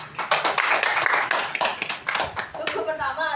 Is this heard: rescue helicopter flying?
no